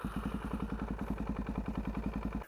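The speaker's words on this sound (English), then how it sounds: "So what I'm going to do is just start the bike up quickly." A motorcycle engine is started briefly during basic maintenance, idling without revving in an even, rapid, loud putter that stays steady throughout.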